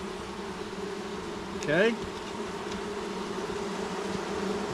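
Honeybees hum steadily in an opened hive box during a spring queen check, a close, continuous low buzz with one louder bee swooping past, and a brief spoken word over it.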